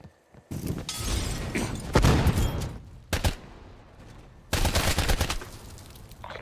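Bursts of rapid automatic fire from enemy sentry turrets in a shooter video game, loud and close, coming in several heavy volleys separated by brief lulls with booming impacts.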